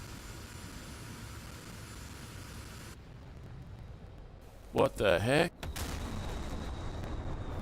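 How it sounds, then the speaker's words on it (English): A MiG jet in the DCS flight simulator screams past in one short, loud burst midway through, over a steady engine drone, and a man briefly exclaims. "You could hear the jet engine screaming by."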